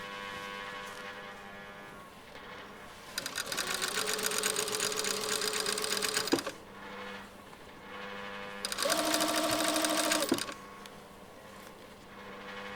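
A sewing machine stitches a shirt hem in two runs of about three and two seconds, each a close, whirring rattle with quiet pauses before, between and after.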